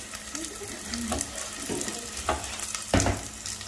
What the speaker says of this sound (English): Let the onion nicely cooked, means like it must become soft and nice, and don't rush.